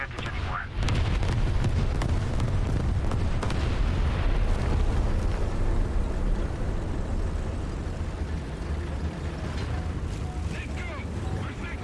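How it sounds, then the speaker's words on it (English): Artillery barrage in the tank game War Thunder: a continuous loud rumble of explosions and deep booms, with a few sharp cracks early on, and a voice speaking over the din. "Our sector is under artillery barrage!"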